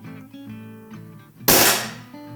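A Beeman HW97 underlever spring air rifle fires once, a sharp close crack followed by a short ringing decay, after a stretch of soft background hum.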